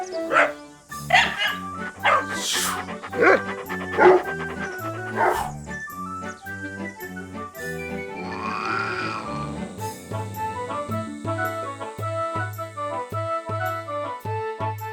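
A dog yowls and howls over lively background music, with drawn-out wailing cries rising and falling through the first half.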